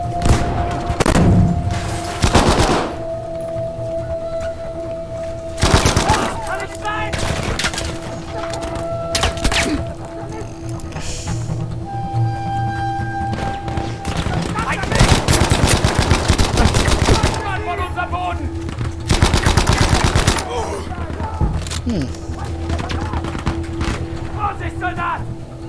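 Gunfire in Battlefield V from a 30-round-magazine gun, loud rapid automatic bursts repeating in several clusters among battlefield noise, with a voice talking between the shots.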